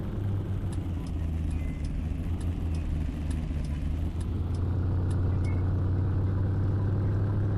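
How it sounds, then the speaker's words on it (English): A loud truck engine in a farming video game, a steady low droning rumble with a strong constant hum, joined by a faint repeating light ticking during the first part. "This truck is really loud."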